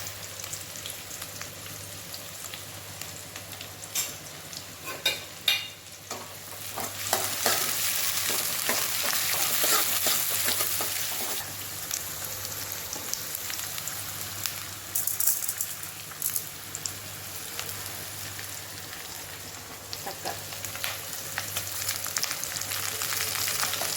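Onions, dried red chillies and curry leaves fry in oil for a rasam tempering, a loud, steady crackling sizzle that swells in the middle, with occasional spoon scrapes and stirring close by.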